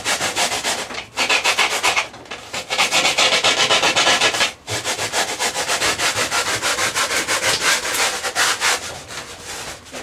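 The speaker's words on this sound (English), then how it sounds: "just hand sand it with the pad" A sanding pad is rubbed by hand around the foam nose of an Emirates 777-9X RC airliner model, giving close, continuous scratchy strokes in a steady back-and-forth rhythm with a couple of short pauses.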